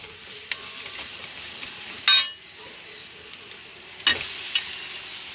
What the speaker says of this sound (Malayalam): ഉള്ളി മുരിഞ്ഞു. വേപ്പിൻ്റെ ഇല ഇടുന്നു. മുളകും പൊടി ഇടുന്നു. നാളികേരം ഇടുന്നു.